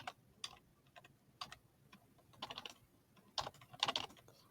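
Keys tapping on a computer keyboard in short irregular bursts, quiet and close, with no talking.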